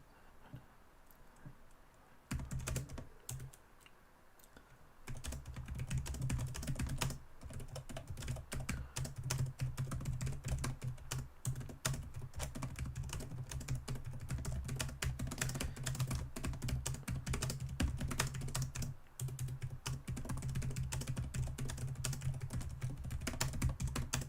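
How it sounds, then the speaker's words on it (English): Rapid, steady typing on a computer keyboard while messaging on Discord, continuous clicking keystrokes close to the mic over a low background hum, starting quietly and becoming dense and sustained. "I'm just typing somebody on Discord a minute."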